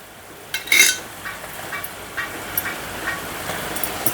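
A corn laddu mixture with jaggery is stirred in a pan, giving soft scraping and light clinking strokes of a spoon in a steady, irregular rhythm, close and fairly quiet.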